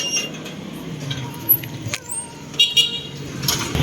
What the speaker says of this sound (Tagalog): ang daming dumadaan ng sasakyan kaya maingay